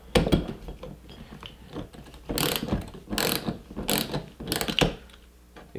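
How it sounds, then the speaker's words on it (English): A 1/2 inch ratchet loosening the bolt that holds the rear wiper arm on a Jeep Cherokee XJ: close, clicking pawl bursts in several short runs with brief pauses between, no talking. "next we're going to be using a 1/2 inch to actually unscrew the bolt that holds on the arm."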